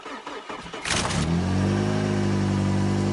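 A 1991 Mazda Protege cold-starting at -22°C: a brief cranking whir catches within a second, then the engine settles into a steady, loud, even idle, close by with no talk.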